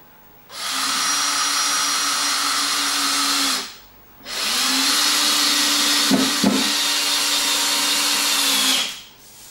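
An electric screwdriver driving screws into wood, two long steady whirring runs separated by a short pause, loud and close, with a couple of clicks in the second run.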